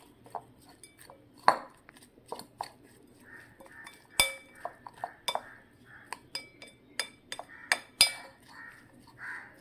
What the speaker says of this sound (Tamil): அடுத்து பொடியாக கட் பண்ண வெங்காயம், மிளகாய் போட்டு நல்லா கிண்டி விடணும்